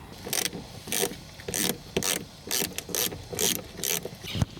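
Screws being backed out of a car part with 8mm fasteners, a ratcheting tool clicking in about eight short regular bursts, close and fairly loud, with no talking.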